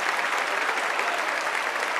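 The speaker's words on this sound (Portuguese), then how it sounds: "O aplauso é masculino e também feminino." Dense, even applause from a congregation at a church seminar on spiritual gifts, a full steady roar of many hands clapping close by.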